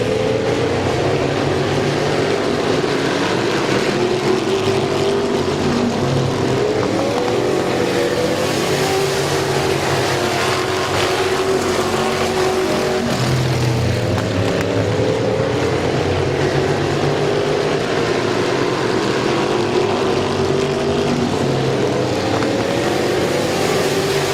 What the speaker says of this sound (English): battle for third between Jason Gruel and Bryce Allensworth. As Lucas Ripley leads, Kevin McClintock moving in on the race leader